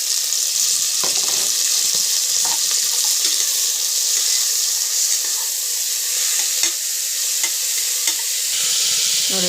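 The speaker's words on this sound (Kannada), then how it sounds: "ಬಟಾಣಿ ಹಾಕ್ಕೊಂಡು ಫ್ರೈ ಮಾಡ್ಕೊತೀನಿ." Green peas and chopped onion fry in a pan with fenugreek leaves, a steady close hiss of sizzling oil running throughout with scattered scrapes of a stirring spoon, no voices.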